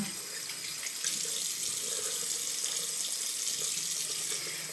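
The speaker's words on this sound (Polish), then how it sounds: "Teraz dobrze spłukujemy." Tap water runs steadily from a bathroom faucet into a sink during face rinsing, a continuous bright splashing hiss at close range with no voices.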